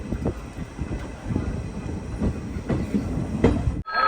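A passenger train runs along the line with a steady rolling rumble and rhythmic clacking of wheels on track, heard from on board. It ends in an abrupt dropout followed by a brief quieter tone.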